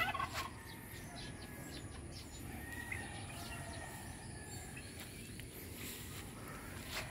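Turkeys gobble faintly on a farm, their calls distant and low under a steady background hum, with no talking.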